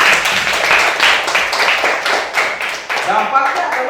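Schoolchildren in a primary classroom clapping for a classmate, a brief burst of many hands close by with voices mixed in.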